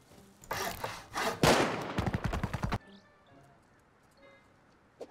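Turret gunfire in the game Rust rattles out in fast, loud bursts over about two seconds, then cuts off abruptly, leaving quiet background with a faint click.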